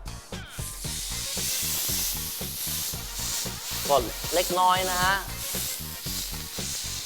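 Meat sizzles steadily on a hot grill pan, a constant crackling hiss, while someone speaks briefly over it.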